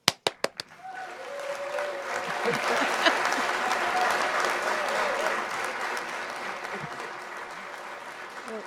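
After a magic trick, a few sharp individual claps ring out first, then an audience breaks into dense, sustained applause that swells and gradually fades, with voices mixed in.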